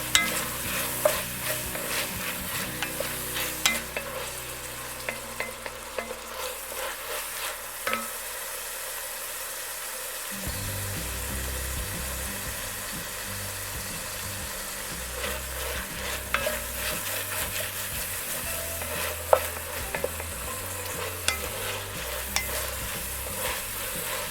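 Vegetables for a keto peanut curry chicken fry in a pan, a continuous close sizzle with frequent clattering scrapes and knocks of a utensil stirring them, steady throughout with no voices.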